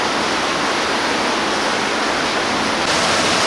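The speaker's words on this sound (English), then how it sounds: "We're going to go down a little waterfall there." A small waterfall inside Nam Talu cave in Thailand roars as a steady, loud, broadband rush of falling water, continuous and close with no voices.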